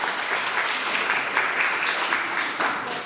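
An audience at a children's holiday concert by music school pupils breaks into warm, sustained applause, a thick, even patter of many hands clapping at moderate loudness throughout.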